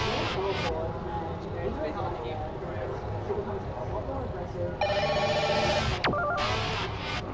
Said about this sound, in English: It's alright, we don't need to pick up that phone.